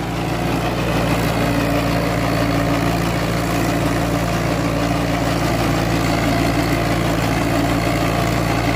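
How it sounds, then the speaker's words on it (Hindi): A VST Mitsubishi Shakti tractor engine runs steadily on a ploughing field, a loud, even low throb with a constant mechanical drone and no break throughout. "आवाज की बात करें तो भाई बहुत ही बढ़िया आवाज है ट्रैक्टर की"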